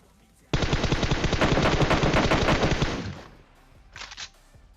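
Rapid automatic gunfire from the video game PUBG Mobile rattles in a long, dense burst of close, loud shots, followed after a pause by a brief second burst.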